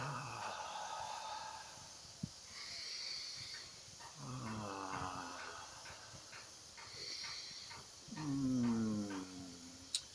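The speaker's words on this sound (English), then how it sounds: "We call that orgasmic breath" Orgasmic breathing with sexual sounds, heavy breathy exhales and drawn-out moaning vocalizations in several swells, fairly faint and close with soft hissing breath between them.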